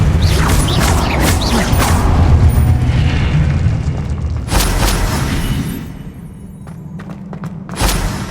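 A Depulso spell strikes in a Hogwarts Legacy battle: loud, rumbling booms and whooshing impacts roll on for several seconds, followed by a quieter stretch and a final sharp hit.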